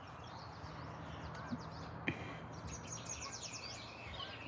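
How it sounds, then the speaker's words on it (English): A blackbird sings fluid, warbling phrases at a distance over a low background hum, with a couple of faint knocks. "Blackbird."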